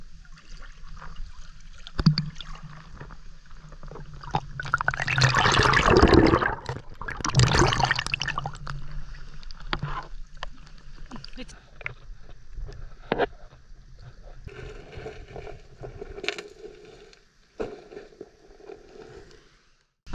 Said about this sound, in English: I'm swimming in the Daintree rainforest right now.